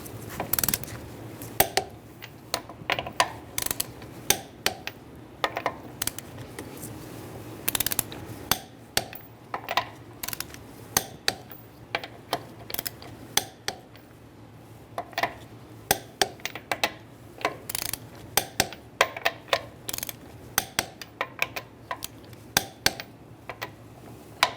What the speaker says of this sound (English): we can torque our wheels to 80 foot-pounds using a 21mm socket